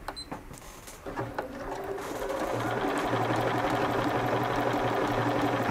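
A Bernina 480 sewing machine stitches a decorative pattern at full 9mm width, starting with a few slow, uneven needle clicks and then settling into a fast, steady mechanical whirr close by.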